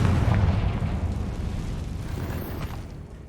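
Confringo fire spell exploding in the video game Hogwarts Legacy: a loud, deep rumbling blast that opens strongly and then slowly decays, with no voices over it.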